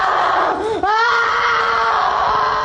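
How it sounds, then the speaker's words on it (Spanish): A girl screams loudly and continuously during an alleged exorcism, her raw, wailing cries sustained with a brief catch and break partway through before resuming at full strength. "En la sala solo se escuchan los gritos de la supuesta posesa."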